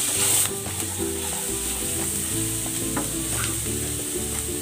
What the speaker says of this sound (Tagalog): Maglalagay ako ng cooking oil. Igigisa ko na tong bawang.